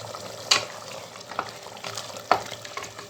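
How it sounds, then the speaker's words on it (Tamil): A spoon stirs a sizzling mutton biryani mixture in a pot, with a few distinct scraping strokes against the metal over a soft bubbling fry. "ஊற்றிட்டு இது நல்லா கலந்து கொடுத்துட்டு அது கொஞ்சம் நேரம் கொதித்து வரட்டும்."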